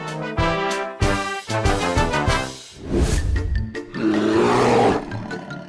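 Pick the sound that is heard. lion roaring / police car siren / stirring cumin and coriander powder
lion roaring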